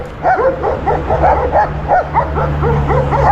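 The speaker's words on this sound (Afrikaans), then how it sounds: "Nou hier is hierdie gewelddadige honde wil altyd ons arme hond verskeur." Several aggressive dogs bark rapidly and loudly close by, their yips and barks overlapping in a steady stream over a low rumbling background.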